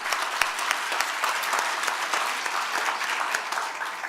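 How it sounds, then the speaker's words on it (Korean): A church congregation at a prayer-retreat service claps together in continuous, dense applause. The sound is loud and sustained throughout the short stretch, with no talking over it. "우리 박수 한번 쳐주세요"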